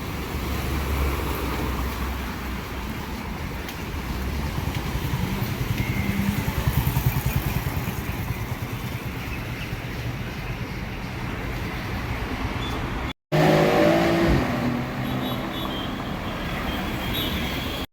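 An open-top BMW passes by on a busy city street, its engine hum blending into steady traffic noise, with a brief gap and a louder rush of passing vehicles near the end.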